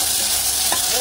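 Tomatoes frying in a hot pan for hotel-style sambar, giving a brief, loud, steady sizzle with one small spatula tap, no talking.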